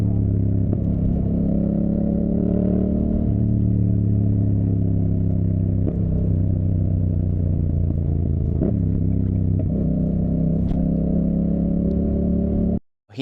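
Motorcycle with a CP2 parallel-twin engine captured by a backpack-mounted mic: a steady, close, rumbling drone with a few mild rises and dips in revs, running continuously before cutting off abruptly at the end.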